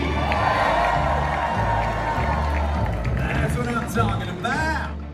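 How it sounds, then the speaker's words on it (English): A large dinner-show crowd at Dolly Parton's Stampede in Pigeon Forge cheers and whoops loudly in a dense, sustained roar, with higher shouts rising near the end. "Let's make some noise."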